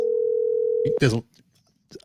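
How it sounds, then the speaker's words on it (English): A steady telephone dial tone hums alone for almost a second, then cuts off as a voice speaks briefly, followed by near silence and a faint sound at the end. "I'm gonna call Billy Stanley right now and give him a hard time"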